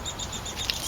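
A baby downy woodpecker chirps in short, thin, high repeated peeps, a steady rhythmic series with one slightly louder note near the end, heard close over faint background hiss.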